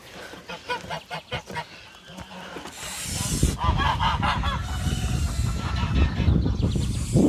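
A trio of geese honks in a farm pen. Sharp rhythmic calls come first, then a loud, overlapping chorus of nearby honking fills the rest.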